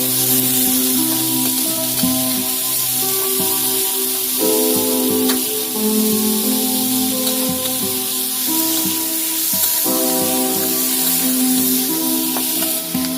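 Chopped onions fry loudly in hot oil, a bright steady sizzle and spatter continuing throughout, overlaid by a tonal hum, with no voices.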